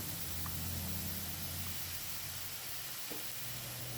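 Steady hiss and sizzle of water poured into a hot pan holding a bamboo shoot mixture with chili and garlic, a continuous bubbling rush with faint clinks, no talk.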